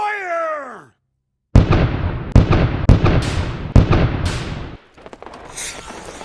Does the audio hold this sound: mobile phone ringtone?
no